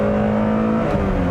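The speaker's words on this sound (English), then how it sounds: "There's the VTEC kicking in" A 1999 Honda Prelude Type SH with a five-speed manual revs hard and close as its VTEC engages, giving a rising, strained engine note over one short burst, with no talking.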